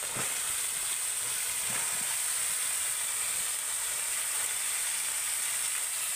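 Chopped cabbage and eggplant added to spices frying in a pan, giving a steady, loud, broad hiss and sizzle with a few brief clatters as the vegetables go in, and no talking.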